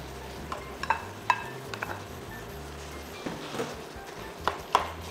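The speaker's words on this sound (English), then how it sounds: "Next, add in the scrambled eggs." Scrambled eggs go into a pan of thickened tomato sauce on the stove, with a soft sizzle beneath scattered light clinks and scrapes of a utensil against the pan.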